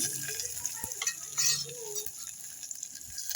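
Garlic, cumin, mustard seeds and turmeric frying in hot oil, with a soft continuous sizzle, light stirring scrapes and a few sharp clicks of a utensil against the pan.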